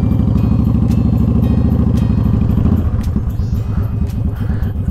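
A Honda Shadow motorcycle engine held at high revs while warming up on a ride through downtown, a loud close pulsing throb that drops to a lower, looser chug partway through.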